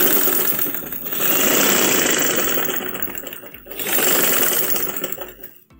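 A sewing machine stitches pintucks on capri pants in two long bursts of fast, even whirring, close and loud, with a short pause between and a stop at the end.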